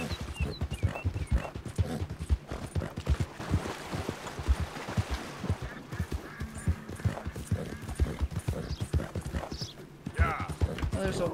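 Horse hooves clip-clop in a steady, brisk rhythm on the ground in Red Dead Redemption 2, close and even throughout, with game voices talking underneath and a brief pause in the gait near the end.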